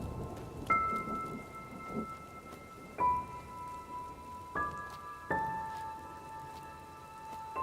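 Faint, steady rain falls in the video game Enderal: Forgotten Stories, with a few ringing chime-like tones sounding over the patter.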